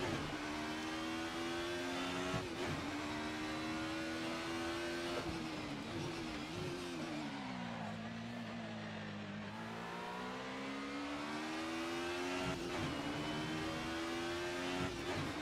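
A 1990s DTM touring race car at Donington Park in a sim racing game, its engine droning and revving steadily with gear changes, the pitch dipping and climbing as it accelerates, a continuous close mechanical whine with no talk.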